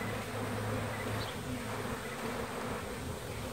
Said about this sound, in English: You're one with the bees, Howard.